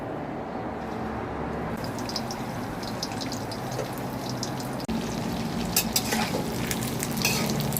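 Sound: tofu frying in vegetable oil

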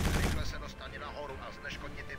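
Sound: gunfire shooting mines in Quake 4 video game

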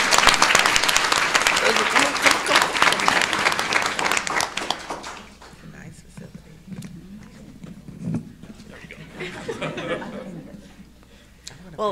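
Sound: applause for a speaker at a business forum

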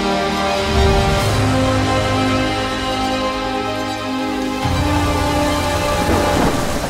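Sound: rain in a rainforest

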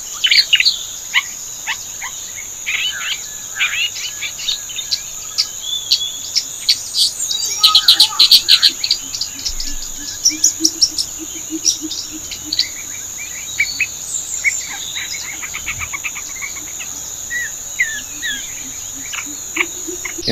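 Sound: grey-backed shrike singing in the forest

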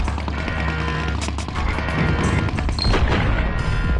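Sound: explosions in video game

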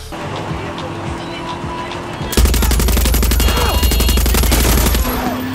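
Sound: gunfire in Far Cry 6 video game

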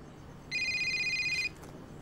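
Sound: telephone ringing with a call from home

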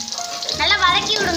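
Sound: sautéing shallots, chana dal and green chili in a pan

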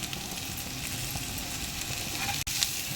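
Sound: onions, curry leaves and mint frying in a pan

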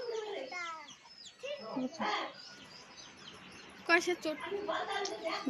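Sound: chicken clucking

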